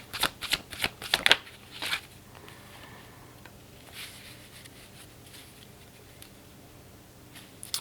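Tarot cards are shuffled close by in a series of quick riffling bursts over about two seconds, then a few softer card taps and slides follow in a quiet room.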